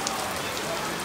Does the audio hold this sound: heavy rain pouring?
yes